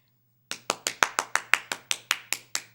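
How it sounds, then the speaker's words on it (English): Eleven sharp hand claps ring out alone in a steady, even rhythm, close and fairly loud, after a brief silent start over a faint low hum. "Why did you clap?"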